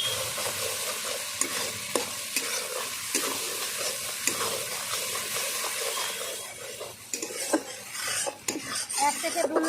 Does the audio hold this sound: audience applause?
no